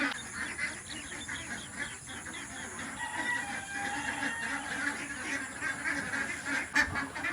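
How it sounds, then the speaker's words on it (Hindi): Two hens and a rooster clucking and calling close by, busy overlapping fowl noises over a faint outdoor background. "2 मुर्गियाँ और 1 मुर्गा ये हमारे बाहर निकल आए हैं।"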